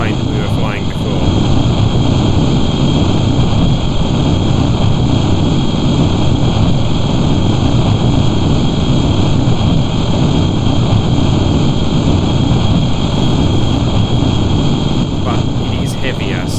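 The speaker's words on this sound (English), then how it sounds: "it's a longer range version of the plane that we were flying before" A long-range plane in flight in the video game Kerbal Space Program, its engine a loud, continuous drone with a few steady high tones, no breaks across the span.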